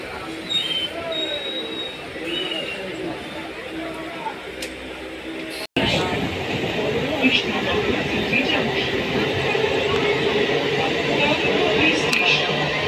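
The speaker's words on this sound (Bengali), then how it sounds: "গাড়ি কিন্তু নৈহাটি ঢুকিয়ে দিয়েছে, একদম টাইম মতন ঢুকিয়ে দিয়েছে।" A train pulling into Naihati station rumbles along with rattling wheels and occasional high squeals, a close continuous clatter that grows rougher after a brief cut, with voices beneath.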